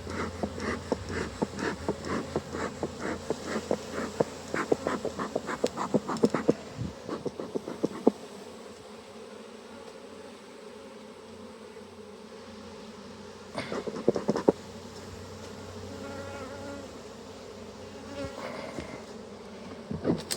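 Bees buzzing around a hive: a loud, dense buzz with rhythmic pulsing up close for several seconds, then a quieter steady hum broken by a brief louder burst.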